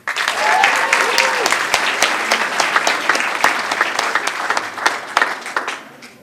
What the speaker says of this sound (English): Can you clap for yourselves again?